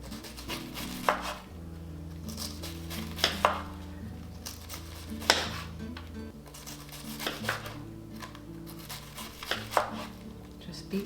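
Cabbage shredded by hand with a knife for sauerkraut, quiet repeated chopping taps on a board in an uneven rhythm, close, with a low background hum.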